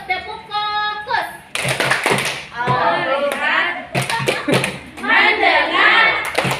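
A class of first-grade children performs a 'tepuk fokus' focus clap, with loud, rhythmic bursts of hand claps alternating with chanted children's voices, close and lively.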